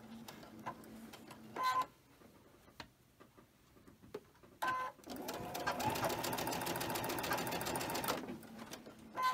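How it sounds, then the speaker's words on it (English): A sewing machine stitches quilt blocks with a quarter-inch seam in short bursts, first a few brief runs, then a longer steady, rapid whirring chatter that continues for several seconds before stopping. "And we are sewing this by 1/4 inch."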